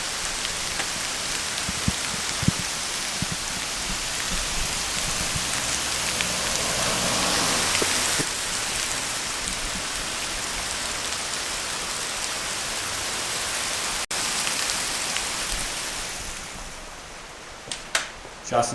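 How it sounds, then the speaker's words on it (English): Big hail pelts down outside during a car-build session in a dense, steady hiss-like patter that runs for many seconds and thins out toward the end, with one sharp click partway through. "We're getting some freaking pretty big hail right now."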